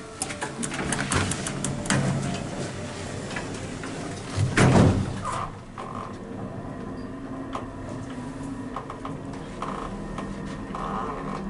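Westinghouse hydraulic elevator at Macy's in King of Prussia Mall, its door sliding with a rumbling thud mid-clip over a steady mechanical hum and low drone of the ride, with faint clicks throughout.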